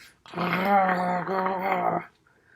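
A small dog's deep, sustained growl, close and loud, holding for nearly two seconds with a brief dip midway, alone against silence.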